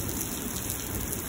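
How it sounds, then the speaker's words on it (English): Heavy rain pours steadily during a thunderstorm in Lubbock, Texas, a dense, even hiss of downpour filling the short stretch without breaks or thunder. "But I like seeing this type of rain,"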